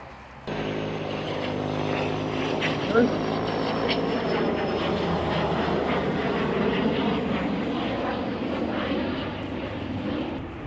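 A Bombardier aircraft's engines drone steadily at Biggin Hill Airport, a loud, continuous roar heard from a distance with no break, while someone talks briefly over it.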